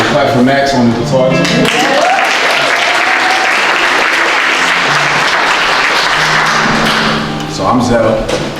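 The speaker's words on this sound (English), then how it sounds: "Clap for Max on the guitar" A crowd at a poetry and art event applauds a guitarist, a loud sustained burst of many hands clapping, with speech just before it and a voice returning as it fades.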